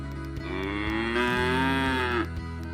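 A single cow moos loudly and close by, a long low call lasting about two seconds, heard on a farm with no voices.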